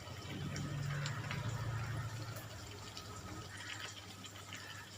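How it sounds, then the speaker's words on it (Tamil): Water is poured into frying masala for a home-style chicken curry, a steady liquid pour and sizzle over a low hum lasting a few seconds, no talk. "இதில் மசாலா நல்லா வதங்கினதும் நம்ம இதில் கொஞ்சோண்டு தண்ணி ஊற்றிக்கலாம்."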